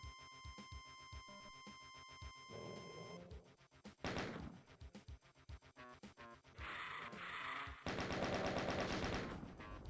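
Gunfire in Ultimate Doom: a fast, steady string of sharp repeated shots. Later come a loud sliding-door rumble and several longer noisy bursts, all at close range.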